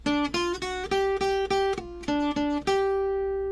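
Electric guitar plays the third part of a surf tune, a quick run of bright plucked single notes in an uneven rhythm, ending on one sustained ringing note, close and clear with no talking.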